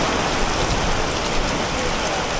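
Very heavy rain pours down on a street in Nha Trang, a loud, unbroken hissing roar of water striking pavement and surfaces close by, steady for the whole stretch.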